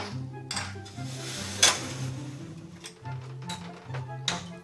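Stuffed pork loin browns uncovered in a pan with a soft, steady sizzle, broken by close metallic clinks and scrapes of a utensil stirring against the pan, over a faint tonal background.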